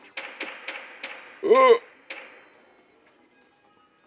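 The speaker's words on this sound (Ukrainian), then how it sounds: "Хто це стучить?" Sharp wooden knocks sound in the Roblox horror game Eyes: four quick raps, a brief vocal sound, then one more knock before the clip fades to quiet.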